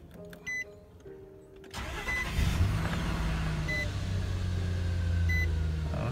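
A car engine cranks and catches after an O2 sensor modification for emission codes P0420 and P0430, then settles into a steady, fairly loud idle that continues to the end.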